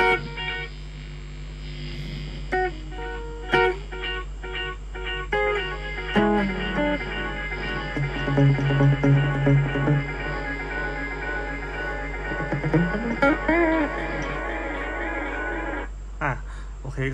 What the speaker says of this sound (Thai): อันนี้เหมือนแอมเบียนนะครับผมเสียงดีเลย์มันจะวิ่งไปวิ่งมานะครับซ้ายขวา